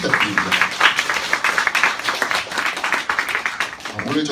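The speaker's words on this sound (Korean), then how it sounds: "큰 박수 부탁드립니다" Warm applause for a Google employee at an education event, moderate clapping from a seated audience that pulses unevenly and tapers slightly toward the end.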